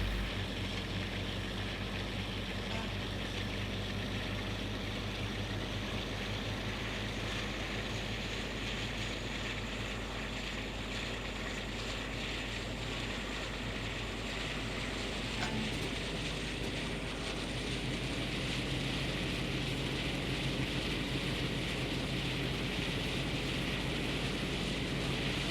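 Locomotive diesel engine revving hard in Train Sim World 2 during freight shunting on the Great Western line, a steady loud droning rumble that holds unbroken throughout.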